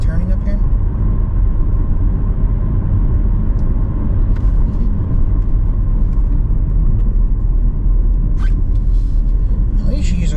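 A car drives along a snowy mountain road in a forest, heard from inside as a loud, continuous low engine and tyre rumble, with occasional talk.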